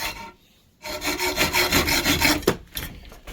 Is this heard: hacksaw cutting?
yes